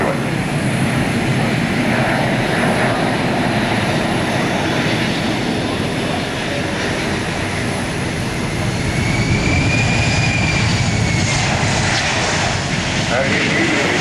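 Large military transport airplane landing at an air show at Hampton Roads, with a loud, continuous jet engine roar that sustains and swells as it rolls out and brakes hard, close by.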